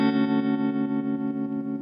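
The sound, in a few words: guitar through Fender '65 Deluxe Reverb with tremolo and reverb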